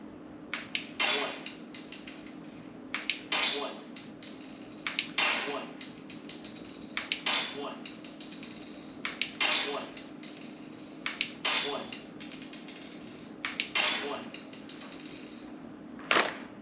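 A SIRT training pistol's trigger clicks sharply during a laser target drill, the clicks coming in quick irregular clusters with short pauses between them in a quiet room.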